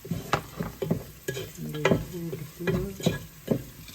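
Fennel and cumin seeds hit hot oil in a pan for chicken curry, sizzling and crackling up close while a spoon stirs in repeated scraping strokes.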